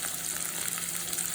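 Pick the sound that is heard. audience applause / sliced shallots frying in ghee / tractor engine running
sliced shallots frying in ghee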